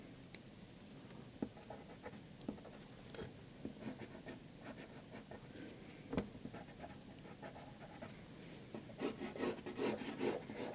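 Charcoal pencil rubbing and scratching across grey paper while sketching a landscape barn, close and soft, with irregular quick strokes and taps that grow busier and denser toward the end.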